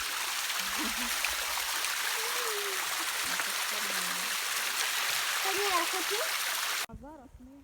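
A steady broadband roar of a cascading waterfall in Ternopil Oblast, Ukraine pours continuously, with a voice speaking faintly beneath it, before the sound abruptly cuts away near the end.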